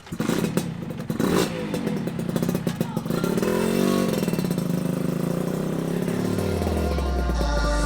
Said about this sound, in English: The bike has been running amazing.